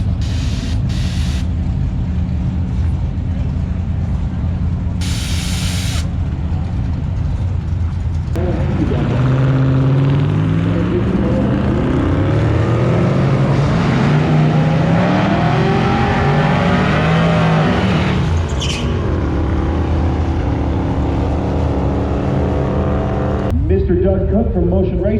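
A drag race car lines up and launches down the strip at Bandimere, its engine idling loudly before a hard, rising roar through the gears, then fading back to a rumble as someone talks nearby.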